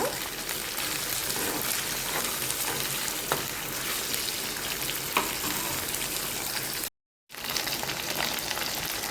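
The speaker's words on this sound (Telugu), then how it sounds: "దొండకాయ ముక్కలు ఫస్టే నూనెలో వేయించుకుంటే కూర తొందరగా అయిపోతుందండి" Pieces of ivy gourd fry in hot oil with a dense, continuous sizzle and crackle, loud and close, with a brief dropout near the end before the frying resumes.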